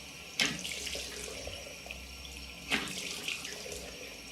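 Cold water streams steadily from a tap into a sink while a face is rinsed, with a couple of sharper splashes as hands cup and throw water, close and continuous.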